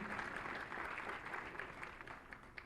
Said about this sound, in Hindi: एक बार इनके लिए शुभकामनाओं के लिए जोरदार तालियां होनी चाहिए।